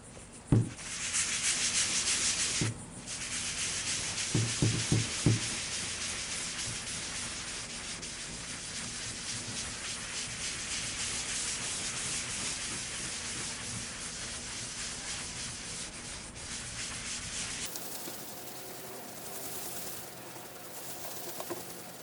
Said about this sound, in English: we're going to start to use our rubbing compound right here